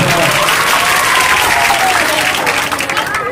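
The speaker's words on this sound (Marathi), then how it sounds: "फक्त लाडक्या बहिणी टाळ्या वाजवतील जोरदार." A large audience at an inauguration ceremony for a Dr. Panjabrao Deshmukh birth anniversary festival applauding loudly, a dense continuous wash of clapping with crowd noise and faint voices, sustained and full throughout.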